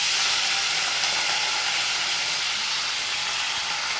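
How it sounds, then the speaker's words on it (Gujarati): Cluster beans hit hot oil seasoned with carom seeds and asafoetida in a kitchen pan, giving a steady, loud sizzle and crackle with no voices. "તેલમાં સરસ આ ગુવાર પાકડી દેવાનો."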